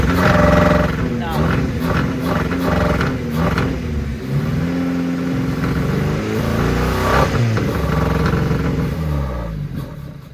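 A twin-engine Hyundai Getz in poor running condition revs unevenly, its engine note rising and falling with a rough, loud mid-range drone, then faltering toward the end.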